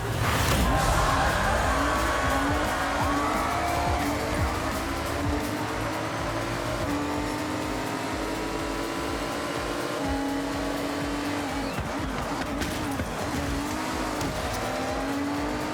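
Race cars in the Forza Horizon 6 video game roar through a wet race, engines droning steadily with rising and falling revs and overlapping whines, loud and continuous throughout with no voices over them.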